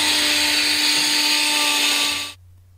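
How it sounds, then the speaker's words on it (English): A Torque Gun Company THRILL pneumatic torque multiplier gun runs on a bolt, giving a loud, steady, high-pitched whine with a constant tone that stops abruptly near the end. "the thrill gun is a precision torque multiplier which produces consistent and measured power on bolt after bolt"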